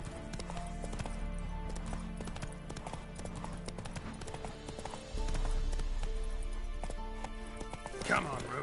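Hooves of Roach, the horse in The Witcher 3: Wild Hunt, clip-clop in a steady rhythm throughout, with game music and ambience around them, a brief snort near the end, and someone talking over the hoofbeats.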